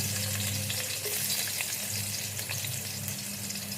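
Garlic sizzles steadily in hot oil in a home kitchen pan for a prawn curry, a loud, dense, continuous hiss with no talking.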